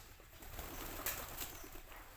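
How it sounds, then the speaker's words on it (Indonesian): Pigeons taking flight with soft, fluttering wingbeats, faint and brief, with a low cooing murmur of birds underneath. "beterbangan burungnya"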